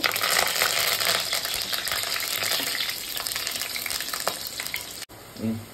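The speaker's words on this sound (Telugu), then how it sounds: "ఆయిల్ బాగా హీట్ అయిన తర్వాత మిర్చి వేసుకోవాలండి, కరివేపాకు" Green chillies and curry leaves hit well-heated oil in a pan for a chicken liver fry, giving a loud, dense crackling sizzle that slowly eases, with faint utensil clinks near the end.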